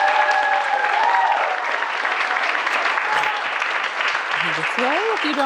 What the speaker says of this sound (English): One more round of applause for these incredible humans.